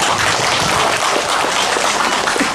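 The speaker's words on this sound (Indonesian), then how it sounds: "Tepuk tangan untuk Pak Komang." Audience applauding for Pak Komang at a visit to the Sri Kandi special-needs school social foundation in Lampung, a dense, steady clapping wash filling the whole stretch at close range with no voices over it.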